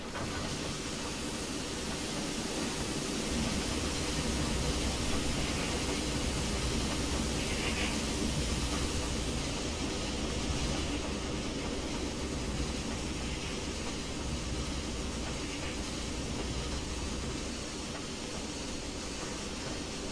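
A WVRR 4-6-0 steam locomotive in the Trainz Simulator game rumbles with a dense, even hiss and low drone that holds steady throughout, easing very slightly toward the end as it slows to a stop.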